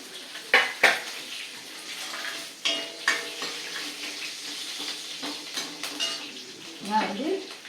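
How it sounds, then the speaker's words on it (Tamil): Two dried red chillies and curry leaves temper in hot oil for a tiffin sambar, a steady close sizzle and crackle broken by a few sharp clatters of a spoon against the pan. "2 மிளகாய் வத்தலை போட்டுட்டேன் தாளிக்கிறதுக்காக."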